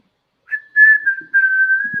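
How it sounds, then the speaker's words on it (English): A person whistles a single sustained, wavering note that starts clean and close, pauses briefly, then continues steadily, with a faint thump at the end. "Blow the whistle. Blow the whistle."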